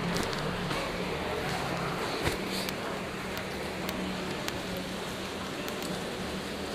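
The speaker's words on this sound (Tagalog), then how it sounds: "Naabutan kami ng ulan." A soft, steady rain hiss with scattered drip ticks, fairly faint and continuous, with a low traffic rumble underneath.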